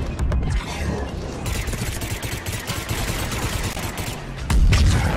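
Sustained gunfire traded with a Destroyer on Earth in Mass Effect 3, loud rapid bursts layered with heavier booms, running throughout with a sharp louder blast near the end.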